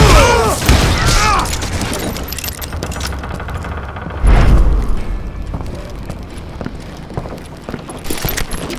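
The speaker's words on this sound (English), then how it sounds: "Dynamite for assholes who can't shoot!" A dynamite blast in the Call of Duty Gunslinger video game booms out loudly around the four-second mark, set among busy game sounds with a gruff voice nearby.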